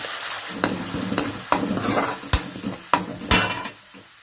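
Onions and ground spice paste for chickpea curry sizzle steadily in a pan, broken by several sharp scraping stirs of a spoon against the pot.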